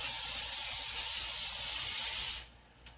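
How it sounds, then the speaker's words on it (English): Cooking spray hisses steadily and loudly from an aerosol can onto a cake pan for over two seconds, then cuts off, leaving a quiet pause and a small click. "You're going to want to spray the pan so that the cake doesn't get stuck to it."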